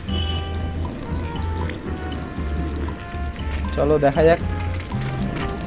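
Water pouring and splashing over motorcycle tail bags, a steady running gush under a man's speech, with a louder burst of splashing near the end.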